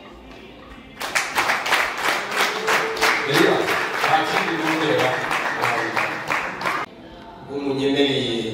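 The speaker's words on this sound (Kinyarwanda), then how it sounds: "murabihamisha ibiganza kuko muri benshi murakoma amashyi" A wedding audience at a civil marriage claps for about six seconds, a dense, steady round of applause from many hands, with a voice speaking before and after it.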